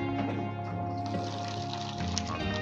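Hot water pours steadily over pork rinds and chicken in a container, a continuous close splashing stream that runs without a break for a few seconds with no talking.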